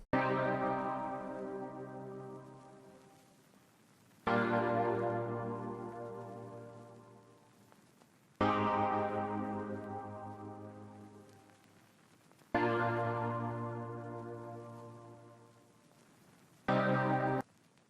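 A bright synth pluck preset, Pluck Retro Hours, plays sustained chords alone in FL Studio, each struck roughly every four seconds and slowly decaying, with a final short hit.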